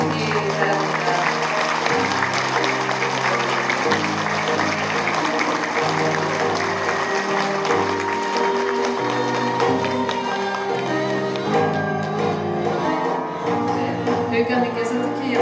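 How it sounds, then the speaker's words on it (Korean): An audience at the inauguration ceremony of a provincial education superintendent in Jeollabuk-do applauds for a long stretch. Dense clapping is blended with loud, continuous music playing throughout. "여러분 큰 박수로 힘을 주시기 바랍니다."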